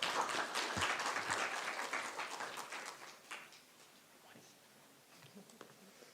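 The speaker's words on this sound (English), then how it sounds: "A round of applause for her, please." An audience at a summit on the future of work applauds loudly for a few seconds, then the clapping thins out and fades into scattered claps.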